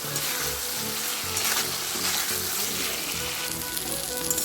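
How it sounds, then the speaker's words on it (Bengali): Spice masala frying in a pan for pabda fish curry, a loud, steady crackling sizzle close up and continuous throughout with no voices. "মশলাটা একটু কিছুক্ষণ দশ মিনিট পনেরো মিনিট মতন আর কি কষে নিতে হবে"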